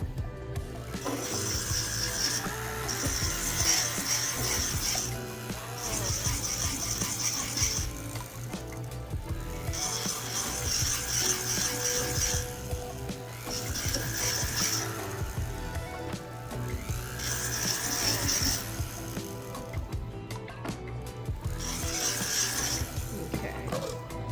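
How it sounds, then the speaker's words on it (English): A piece of jewelry being sanded by hand, a repeated scraping rub in long strokes with short pauses between them, close and steady with no talking. "I'm going to sand it."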